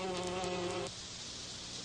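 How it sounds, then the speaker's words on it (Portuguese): Honeybees buzzing, a close, bright droning hum that cuts off abruptly partway through and leaves a faint, soft background hiss. "Estes insetos chamam-se em português abelhas."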